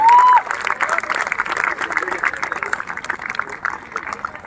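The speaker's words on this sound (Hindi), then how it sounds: "आप लोग जोरदार तालियां बजाइए" An audience at a college literary festival gives a sustained round of applause, dense, even clapping filling the hall from start to finish, with a voice briefly over it at the start.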